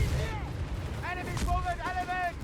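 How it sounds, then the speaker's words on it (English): Artillery and gunfire from the strategy game Company of Heroes 3, rumbling low booms and crackling shots heard beneath a commentator's voice. "And we got a bit of artillery there out of the captain there."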